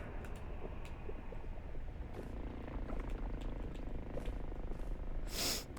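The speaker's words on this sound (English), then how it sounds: "that one noise is almost like a cat purring, and I don't like it" Low, continuous purring rumble from a creature in the horror video game Necrophosis, steady and moderately loud throughout, with a brief hiss near the end.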